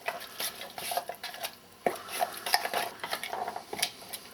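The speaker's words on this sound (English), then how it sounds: "Then I just mix it up." A wax and mineral oil finish is stirred in a container, giving soft scraping, clinking and tapping strokes in an irregular rhythm, close by and fairly quiet.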